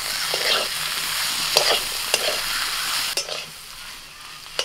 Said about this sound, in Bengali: তিলটাকেও আলুর সাথে একটুখানি ভেজে নেব। এবার দিয়ে দিচ্ছি ভাজা শাক।